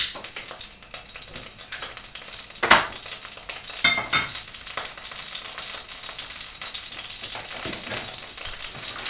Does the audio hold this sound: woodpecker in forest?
no